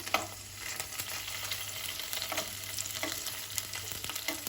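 Paneer frying in a pan until golden on each side, a soft steady sizzle with occasional light scrapes and crackles, fairly quiet.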